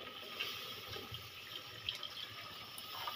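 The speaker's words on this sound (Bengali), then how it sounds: "এবারে দিয়ে দেবো জল" Water is poured into a pan of paneer curry, giving a faint, steady trickle and splashing with a few small drips and clinks.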